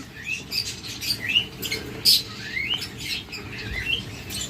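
A pair of blue budgerigars gives quick, high chirps and twittering calls, scattered and fairly close over a faint background hum, with one brighter squeak standing out.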